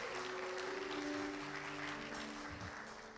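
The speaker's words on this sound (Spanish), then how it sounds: "hoy la iglesia tiene como ganas de aplaudir" A church congregation applauds together in a steady, dense wash of clapping that fills the space, with a sustained musical tone underneath and no talk.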